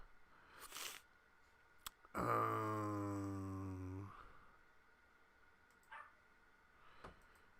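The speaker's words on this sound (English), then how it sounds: "Sorry if you can hear my dog barking in the background." A dog barks in the background of an indoor room: one long drawn-out bark-howl stands out among a few shorter, fainter barks and yips spread over several seconds.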